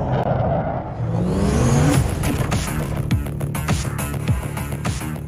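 A new vehicle driving on the Vondel map in Warzone: a loud, close engine revs and accelerates with a rising whine, shifting pitch, then settles into a steady drive with faint tire noise and small clunks.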